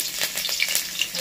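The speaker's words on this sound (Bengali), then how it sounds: "তেলটা গরম করে নিই, পুরোপুরি গরম করে নিয়েছি। দিয়ে দিচ্ছি কাঁচা লঙ্কা কুচি" Chopped green chillies hit fully heated oil, giving a brief, close, bright sizzle with a few crackling bursts, no speech.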